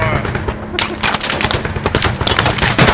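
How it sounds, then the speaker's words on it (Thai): Nonstop automatic gunfire in the video game Squad, rapid loud bursts of shots hammering on for the whole stretch, with a voice faintly underneath. "ยิงไม่หยุดซะด้วยยางกูแตกหมดแล้วน่ะ"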